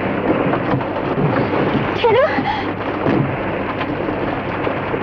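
Steady, heavy rain pours through a stormy night scene in a 1956 Hindi film, with a broad rushing hiss and low rumbling thunder throughout. A voice speaks briefly in the middle.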